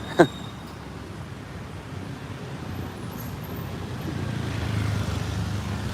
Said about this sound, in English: Here they go, driving into oncoming traffic,